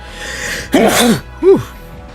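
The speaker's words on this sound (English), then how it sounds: "Sorry, I have to sneeze." A close, sharp sneeze bursts out, followed moments later by a short vocal sound, over a quiet background hum.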